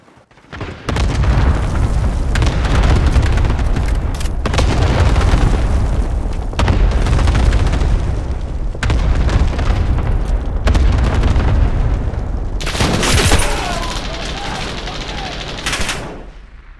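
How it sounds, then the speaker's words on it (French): Explosions from an allied cluster strike rumble and crack in a video game, a long run of dense, loud booming blasts and rapid detonations that fill the whole stretch, easing slightly toward the end. "Frappe à dispersion alliée en approche."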